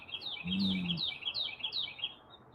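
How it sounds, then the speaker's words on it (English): Birds chirp outdoors in a quick run of bright, repeated tweets at moderate distance, with a brief low hum near the start; no talking. "Apparently the birds are keen on it too."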